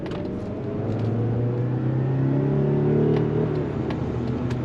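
A 2025 Toyota Grand Highlander hybrid with a 2.5-liter inline-4 accelerates, heard from inside as a steady engine drone rising in pitch and volume, with no talk.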